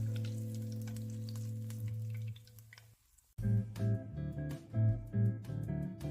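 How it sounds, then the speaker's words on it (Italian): Capers drop into olive oil at about 140 degrees and sizzle and pop, a steady close frying hiss that cuts out briefly and then returns in louder, bubbling bursts. "Portiamo l'olio a circa 140 gradi, immergiamo i capperi e lasciamoli esplodere."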